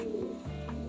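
A pigeon of an old-generation Jidiya-line breed gives one brief, low, close coo against soft background noise.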